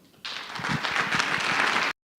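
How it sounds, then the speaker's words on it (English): Audience applause at an arts and culture panel in Minneapolis-Saint Paul, a loud, dense burst of clapping that starts abruptly, holds steady for under two seconds, then cuts off. "Let's give them a round of applause."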